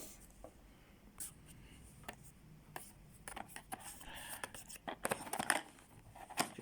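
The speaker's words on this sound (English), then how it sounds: "So let's cut this open and have a look at the laptop." A blade slits open the heavy cardboard box of an ASUS Strix Scar 17 G733Q laptop, with close, irregular scraping and tearing strokes that grow busier and louder toward the end.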